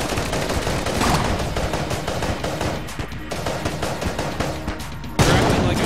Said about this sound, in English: You're acting like I'm shooting it, which I am.